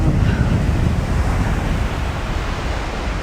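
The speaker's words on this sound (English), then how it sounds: "The water's really coming up high onto the beach, isn't it?" Ocean waves break and wash up high onto the beach at Nelson Bay, a steady loud roar of surf mixed with buffeting wind noise, no voices.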